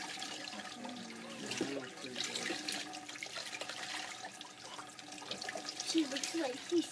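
Water runs and splashes softly while a newborn baby is rinsed at her first bath, the trickle fairly quiet and uneven, with faint voices murmuring and small squeaks near the end.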